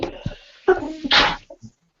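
A single sharp sneeze bursts out close by in a quiet indoor room, preceded and followed by brief snatches of people talking.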